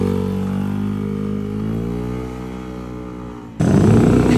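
A modified 215cc Yamaha NMAX scooter engine idles with a steady low harmonic hum that rises slightly, then abruptly jumps into a loud, rough rev near the end, heard close up with no talk.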